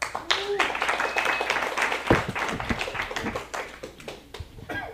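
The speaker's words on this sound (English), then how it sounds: "I want you to give a big round of applause for our speaker tonight, Clint Werner." Scattered clapping from an audience welcoming a speaker at an evening group meeting, uneven and fairly sparse with individual claps standing out, a few voices murmuring underneath.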